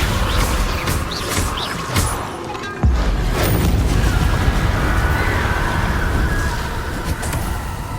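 A Descendo slam spell in Hogwarts Legacy hits during a fight with Inferi. A single heavy, booming impact lands midway through ongoing rumbling combat noise, followed by a sustained, roaring wash of sound.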